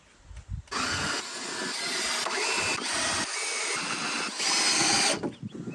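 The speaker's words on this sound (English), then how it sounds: "Now I can put the rest of the screws in." A power drill drives screws into a wooden planter in a cottage garden, running in one long loud continuous whir for several seconds with slight pitch shifts before cutting off, with no voices.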